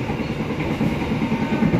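An economy-class passenger train runs steadily, a continuous low rumble with faint rhythmic clatter of wheels on rails, heard from inside and without talk.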